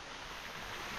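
A waterfall in the Tijuca Forest in Rio de Janeiro gives off a steady, dense roar of rushing water, continuous and loud with no voices.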